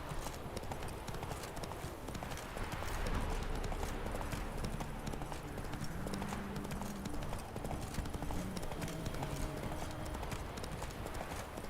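Hooves of Roach the horse clip-clopping steadily in The Witcher 3, a continuous rhythmic trot under a faint game soundscape with a brief low whinny-like tone.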